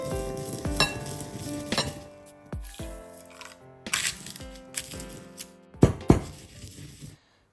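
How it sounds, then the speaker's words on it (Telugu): Dry red chillies fry in a pan for homemade kadai masala, giving crackling sizzles broken by repeated sharp scraping and clinking stir strokes, with short pauses between bursts, close and with no talk. "రెడ్ చిల్లీస్ ఇలా ఫ్రై కావాలి"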